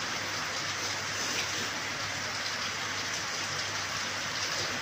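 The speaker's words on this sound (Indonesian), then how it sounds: "gerimis dari pagi" Light drizzle falls in a steady, even hiss of rain with no distinct drops or pauses, a faint continuous wash of sound with no voices.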